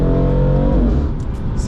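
A BMW M4 engine revs loudly up close, a sustained throaty roar that drops in pitch as the revs fall away, ending with a few faint higher sounds.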